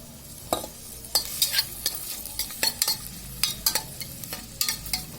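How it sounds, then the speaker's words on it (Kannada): Onion and green chilies fry in a little oil in a pan, with a soft sizzle beneath repeated scraping stirs of a spoon against the metal, close and fairly quiet. "ಸ್ವಲ್ಪ ಹಸಿ ವಾಸನೆ ಹೋಗೋ ತನಕ ಫ್ರೈ ಮಾಡ್ಕೋಬೇಕು"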